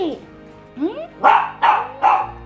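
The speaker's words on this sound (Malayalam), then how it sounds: "ഞങ്ങൾക്കൊരു പട്ടിക്കുഞ്ഞുണ്ട്, ശംഖു." A puppy gives three quick, sharp barks in a row, preceded by a couple of thin, rising whiny yelps.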